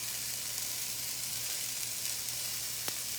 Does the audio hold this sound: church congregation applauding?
no